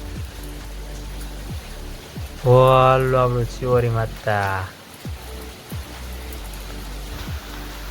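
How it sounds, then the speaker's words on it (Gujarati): Steady rain patters on surfaces throughout, a dense hiss with scattered drips, while someone speaks briefly in the middle. "અમારે એક નંબર વરસાદ છે જોઈ લો"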